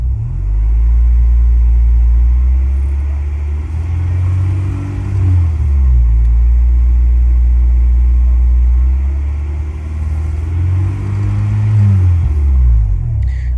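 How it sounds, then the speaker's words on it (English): Engine of a 1994-2001 Acura Integra with a lean condition revving up twice under throttle, a loud, close rumble rising and falling, then settling back to idle. "Let's give it some gas to see if it changes at all."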